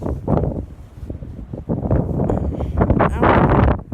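Strong coastal wind on a beach trail buffets the microphone, a loud, rumbling, uneven roar that surges and drops in gusts throughout the short stretch.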